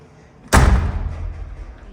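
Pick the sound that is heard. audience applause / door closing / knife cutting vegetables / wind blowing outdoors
door closing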